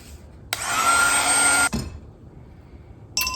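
A hair dryer blows on a watercolor painting of a spring bunny in one steady loud whirring burst of about a second, shuts off, then starts again briefly at the end.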